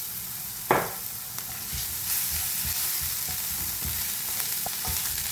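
Turmeric and ginger-garlic paste are stirred into a curry bun filling frying in a pan: steady close sizzling with scattered soft scrapes and clicks of stirring throughout.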